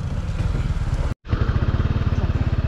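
A Honda ADV160 motorcycle engine running close by, a quick, even pulsing putter that cuts out briefly and then picks up again at a steady idle beat.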